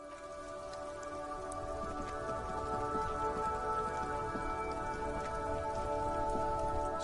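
Rain falls steadily, a close, even patter of countless drops that swells slightly over time, with a faint hum underneath and nobody talking, heard from within a car in stalled traffic.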